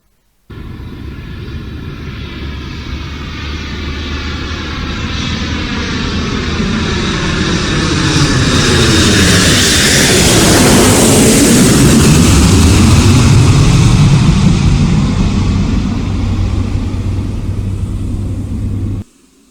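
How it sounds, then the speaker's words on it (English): A landing airplane roars past close by, its broad jet rumble building over several seconds and peaking loud as the pitch sweeps downward, then holding steady until it cuts off abruptly. "A landing airplane produces loud sounds."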